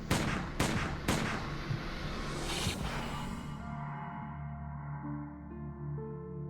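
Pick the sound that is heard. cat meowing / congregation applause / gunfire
gunfire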